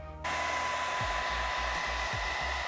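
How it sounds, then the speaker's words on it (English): A hair dryer switches on after a brief pause and blows steadily with a loud, even whoosh and a faint whine, close by. "And it even goes even faster with a hairdryer, which I'm gonna do."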